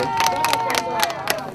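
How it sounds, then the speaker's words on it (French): A crowd at a community cinema event claps to welcome a guest. The sharp claps come in scattered bursts over a murmur of background voices. "vous allez l'applaudir pour lui souhaiter la bienvenue"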